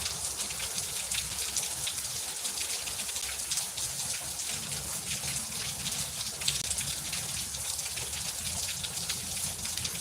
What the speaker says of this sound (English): for it to rain a lot in the desert is not common, except for the monsoon season